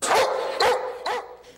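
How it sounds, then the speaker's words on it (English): Retiring Lethbridge police dog Rex barks three times in quick succession, close and loud, inside a car while eager to get out. "He's whining, he's barking"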